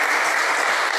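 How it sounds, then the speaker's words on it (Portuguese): A church congregation claps together in a steady, dense wash of applause, loud and close with no voices on top. "batam palmas pentecostais para o Senhor Jesus"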